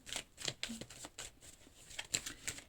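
Tarot cards being shuffled and drawn, a run of quick crisp riffles and flicks at an irregular pace, close and soft, with no talk over them.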